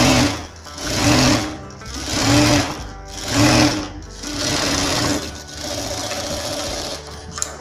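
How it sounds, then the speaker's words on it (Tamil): A sewing machine stitches the lining of a blouse, running in steady, loud bursts of rapid needle chatter separated by short pauses, then holding one longer continuous run near the end. "படிமான தையல் போட்டுக்கலாம்"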